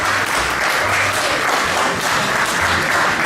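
An audience at a film festival grand opening breaks into applause, loud continuous clapping close and sustained throughout.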